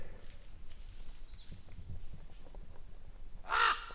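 A bird near its nest gives a single loud, harsh squawk close by at the end, after a quiet stretch of faint outdoor background and soft scattered noises.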